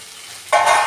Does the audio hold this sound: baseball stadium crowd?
no